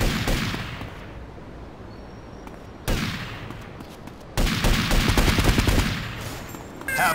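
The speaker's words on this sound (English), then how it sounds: "Yep, I'm gonna shoot you." Automatic gunfire in GTA Vice City Stories on the PSP sounds in loud rapid bursts, with a sharp onset near three seconds and a heavier, sustained volley from about four and a half seconds on.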